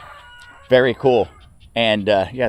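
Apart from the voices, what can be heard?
rooster crowing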